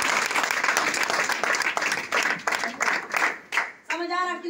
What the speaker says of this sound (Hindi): तालियां चाहिए